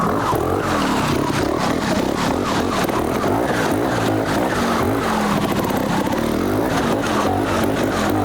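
Trials motorbike on brand new tyres climbing a rocky, slippery stream bed, its engine revving and labouring steadily and loud throughout with clattering over rocks, no voices.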